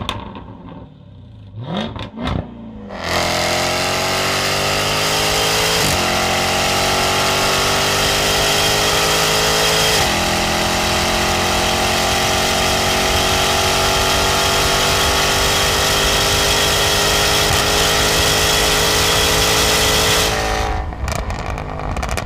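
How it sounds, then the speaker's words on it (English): A Jaguar F-Type SVR with a titanium exhaust revs hard, its loud engine note holding steady and climbing through a long sustained blast after a brief quieter start, then dropping away at the end. "you'll want to hammer the throttle a fair bit to hear the titanium exhaust do its thing"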